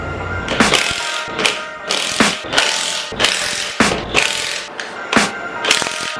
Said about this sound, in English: Gonna go ahead and pop this head off now